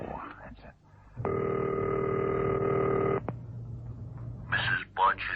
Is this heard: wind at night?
no